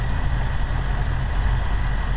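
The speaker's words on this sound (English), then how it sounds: "Pretty quiet up here in this engine area." A Dodge Dart's 360 V8 engine with a newly built exhaust system idles steadily, a deep, even low rumble heard up close in the engine bay with no other sounds.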